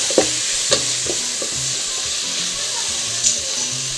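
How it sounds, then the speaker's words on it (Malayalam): Washed prawns sautéing in a pan in a home kitchen give off a steady, close sizzle. A few soft clinks of stirring rise above it, and nobody speaks. "നമ്മൾ കൊഞ്ചി കഴുകി വെച്ച കൊഞ്ചി ഇതിൽ ചേർത്ത് കൊടുക്കുക കുറച്ച് സമയം ഒന്ന് വഴറ്റിയെടുക്കുക"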